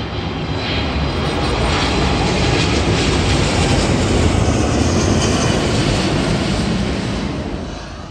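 A large airliner's jet engines roar at a Nepal airport: a loud, dense, continuous rumble swelling and holding close by for the full stretch, with no voices.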